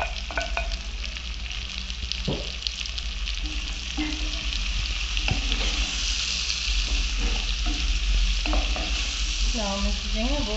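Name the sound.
sautéing garlic, onion and pepper in a pan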